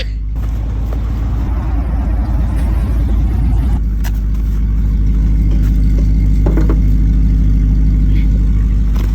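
A campervan stuck in a snowbank revs its engine hard while a wheel spins in the snow, a loud continuous drone with a surge early on and a steadier churning roar afterward, a faint voice in the background.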